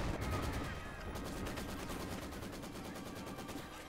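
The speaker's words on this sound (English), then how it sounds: "The back machine gun of the IS-2's turret works." An IS-2 tank's rear turret machine gun firing in a video game, rapid sustained bursts of gunfire that run through the whole stretch at close range, with a voice talking briefly underneath.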